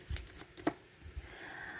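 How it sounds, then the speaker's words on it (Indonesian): Soft, papery riffling of tarot cards being shuffled, a few quick rustling bursts close by with a faint hiss beneath. "sambil saya baca doa dan saya kocok kartunya"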